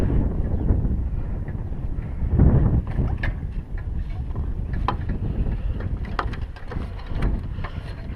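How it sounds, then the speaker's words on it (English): Steady wind rushing past a homemade turbine built from a washing machine, with blustery microphone buffeting and faint rattling clicks, loud and continuous without talk. "Wind's moving a little bit more."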